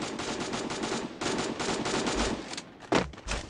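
A plasma long gun fired in a video game, loosing rapid bursts of automatic shots with short pauses between volleys, loud and up close with no talking.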